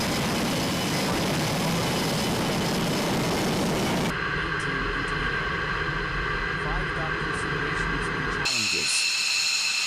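An F-18 fighter jet is launched by catapult from a US aircraft carrier, with a loud, steady engine roar that shifts in character partway through, under continuous narration.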